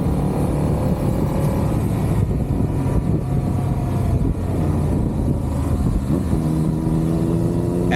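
Motorcycle riding along New Mexico Highway 152, its engine droning steadily up close with wind rush, the throttle opening toward the end as the pitch climbs; no talk.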